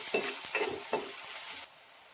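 Chopped onions tossed into hot oil in a kadhai, a loud steady sizzle with a few stirring scrapes, cutting off abruptly near the end.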